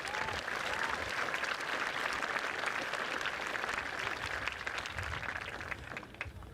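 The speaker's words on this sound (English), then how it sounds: "Can I get a big round of applause for our speakers over here who got us started?" A high school graduation crowd gives a dense, sustained round of applause for the speakers, filling a large hall evenly before gradually tapering off near the end.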